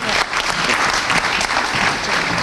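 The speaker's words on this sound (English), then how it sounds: "Let's give Jeff a round of applause." A crowd breaks into loud, sustained applause, many hands clapping together in a dense wash of sound throughout.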